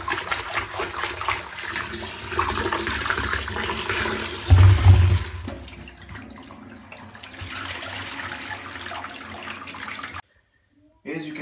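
Aquarium sand being rinsed under running water: a steady, fairly loud rush and splash that swells briefly in the middle, then cuts off abruptly near the end before a little more water noise returns.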